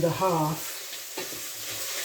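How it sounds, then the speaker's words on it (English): Red lentil soup ingredients are stirred in a large pan, giving a brief scraping rustle over a steady low sizzle, with a short murmur of voice at the start. "Just give those a quick stir around."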